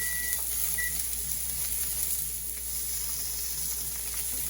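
Steady, soft sizzling of onions frying in a pan, a continuous crackle with a couple of faint beeps early on.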